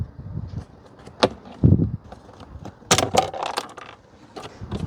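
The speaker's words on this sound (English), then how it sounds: "Then simply pull the pin out." A metal hinge pin is pulled from a Hyundai Santa Fe glove box: several close clicks and scrapes, a dull knock, then a cluster of bright metallic ticks.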